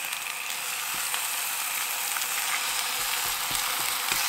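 Sausages frying in an electric frying pan, a steady bright sizzle and crackle with occasional small clicks from tongs, unbroken by talk.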